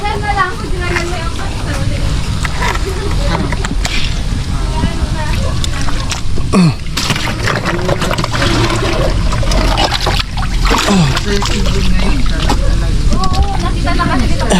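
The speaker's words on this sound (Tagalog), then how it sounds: "Higib tayo ng tubig dito na lang." Water sloshes and pours steadily in a home bathroom as water is fetched for the toilet, a continuous splashing flow beneath people talking nearby.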